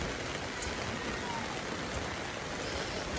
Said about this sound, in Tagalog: Sakto naman na bumuhos yung ulan natin dito sa lugar na to.